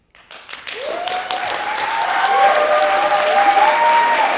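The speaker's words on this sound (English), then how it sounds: "During the rounds of applause and the final few words" An audience breaks into applause after a performance, the clapping building quickly and then holding steady and dense, with a few whoops and vocal cheers rising above it.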